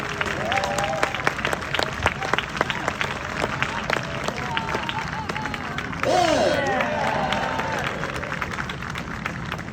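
Crowd applause and clapping fill an audience at a live show, loud and sustained with sharp individual claps, swelling briefly near the end while a voice speaks over it.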